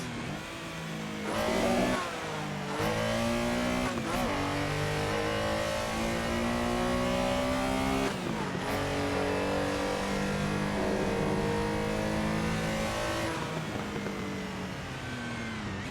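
A Porsche race car, modelled on the Lego Speed Champions 75888 set, races in a VR simulator. Its engine revs hard and continuously, with rising pitch sweeps and sharp drops at each gear change or lift-off.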